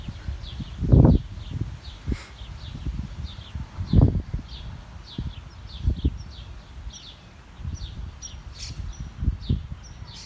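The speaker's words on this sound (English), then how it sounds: "Sometimes I just sit out here just to listen to the birds chirp." Small birds chirp in repeated short tweets at a distance, over outdoor rustling and a few louder low thumps nearby.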